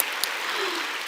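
Applause from a church audience at a personal faith testimony, a steady dense patter of clapping that fills the whole moment without voices over it.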